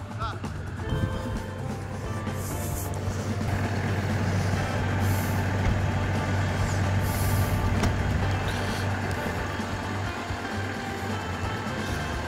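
A Dodge Ram pickup idles and rumbles off-road on a hill, a loud steady low engine drone throughout with a brief hiss near the start, while people talk over it.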